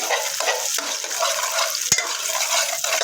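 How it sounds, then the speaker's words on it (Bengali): An egg cooks in a pan for fried rice, giving a close, bright steady sizzle with brief surges as it is stirred and one sharp tap of a utensil. "ডিম ফুটিয়ে সেভাবে আমি কিছুক্ষণ কুক করে নেব"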